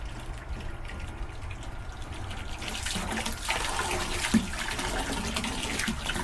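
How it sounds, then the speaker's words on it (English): A new pump pushes water through a hot tub, starting as a faint trickle that swells after a few seconds into a fuller, rushing flow, close and continuous with no talk. "Give that a second to pump some of that water through."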